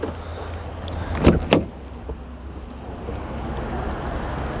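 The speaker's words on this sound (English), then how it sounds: "Just unlock the rear doors." A BMW X2 xDrive 20d M Sport rear door clicks twice in quick succession as it is unlocked and opened, a short unlock clunk and a latch, over a steady low background hum.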